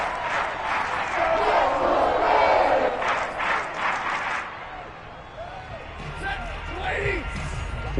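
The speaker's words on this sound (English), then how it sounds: "Plenty of shouts from this crowd as they watch the replay" A football stadium crowd roars and shouts during a replay, a loud dense swell of many voices that eases midway, with a commentator talking over it.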